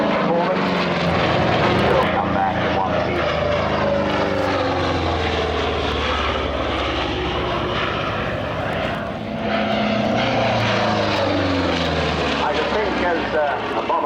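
Propeller-driven fixed-wing warplane, a bomber-escort fighter, flying past at an airshow, its steady loud engine drone sweeping with slow Doppler shifts throughout while people talk nearby.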